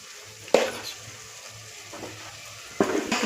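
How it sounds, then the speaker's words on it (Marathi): Chicken gravy sautéing in oil with ground coriander, red chilli powder and homemade spices, a steady low sizzle broken by a few sharp clatters of a utensil stirring against the pan. "आता हे चांगलं परतून घ्यायचंय तेल सुटेपर्यंत."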